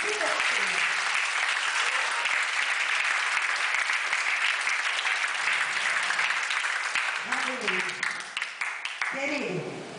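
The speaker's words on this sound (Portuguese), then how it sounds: "Dê um aplauso ao Senhor aí." A church congregation applauds continuously, a dense, sustained crackle of many clapping hands that fills the room and begins to thin near the end, with voices rising over it.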